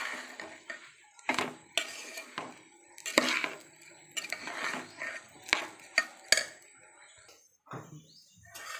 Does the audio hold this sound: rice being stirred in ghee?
yes